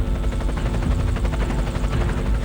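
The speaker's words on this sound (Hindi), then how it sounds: "बिलाफोंड दर्रे पर एक पाकिस्तानी हेलीकॉप्टर मंडराता दिखा।" A Pakistani military helicopter hovers over the Bilafond pass in the Siachen war, a loud, steady rotor drone with fast blade chop that goes on without a break.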